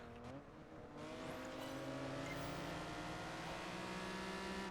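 Race car engine in Project Gotham Racing 4, pulling slowly off the line in a long first gear, with a steady, loud rising drone and layered revving harmonics throughout.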